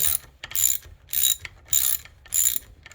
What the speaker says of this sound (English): you'll want to keep pressure into the breech plug with your left hand and start ratcheting